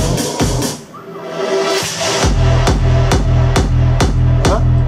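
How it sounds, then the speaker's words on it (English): A busy, bright electronic texture gives way to a heavy, booming EDM kick drum with deep bass, hitting in a steady four-on-the-floor pulse under crisp highs. "Means it's a kick, a big kick with a bass on the kick."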